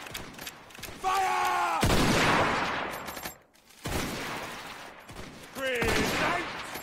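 Rifle volleys fired on command in a Zulu wars game, three loud crashing blasts with rolling decay, separated by shouted commands, close by.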